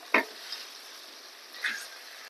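Vegetables with salt and turmeric being stirred in a sizzling pan for veg pasta, two brief scraping strokes over a steady frying hiss.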